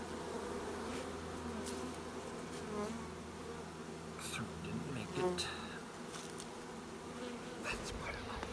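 Honey bees buzz steadily around a new hive as they move in, a dense continuous hum of many insects close by, with a short spoken remark partway through.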